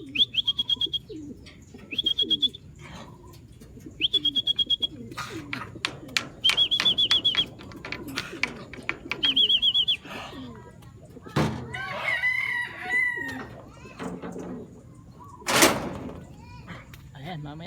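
Racing pigeons coo in soft repeated bursts while birds chirp nearby, with a person talking at length over them and a few knocks and bumps.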